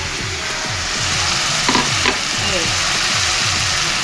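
Chopped tomatoes fry in hot spice masala for a drumstick and dal curry, giving a steady loud sizzle with rhythmic stirring scrapes and a couple of brief clatters, no voices.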